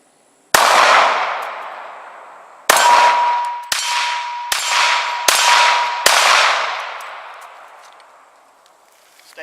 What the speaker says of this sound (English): Today I'm going to be shooting my Glock 30S.